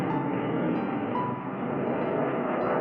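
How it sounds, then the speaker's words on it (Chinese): A jet plane roars overhead above an old residential street in Pingtan, Fujian, a loud, sustained rumble that holds steady throughout with a slight dip midway. "天上还有飞机呢。"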